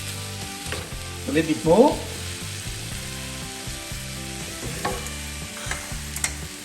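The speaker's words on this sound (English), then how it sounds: "And we have to cook the meat now." Beef sizzles and frying in a hot pan for a stir fry with onions and mushrooms, a steady close crackle with a short burst of stirring and scraping near the start, under a brief spoken remark.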